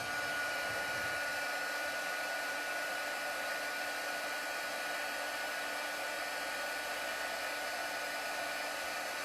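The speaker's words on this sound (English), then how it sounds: "And then I'm just going to heat emboss this." Heat embossing gun blowing hot air, a steady, even whirring hiss with a faint tonal whine that runs unbroken and fairly quietly from start to finish, no talking.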